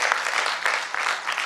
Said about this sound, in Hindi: एक बार उनके लिए जोरदार ताली होना चाहिए।